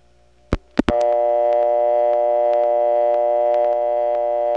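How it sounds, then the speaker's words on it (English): A PBX ring on the DeKalb County telephone exchange in 1979: a few sharp switching clicks, then a loud, steady electronic tone that holds unbroken to the end. "instead of getting that city-type ring, you'll hear a PBX ring"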